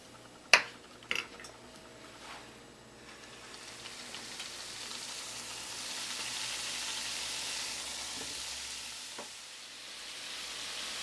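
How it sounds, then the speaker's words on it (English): Test piece of Jamaican festival dumpling dough frying in about a cup of hot oil in a pan, a steady close sizzle that builds and hisses broadly after a couple of sharp utensil clinks near the start. "So now we're going to fry, and I'm going to use a little piece of the dough to make sure the oil is the right temperature."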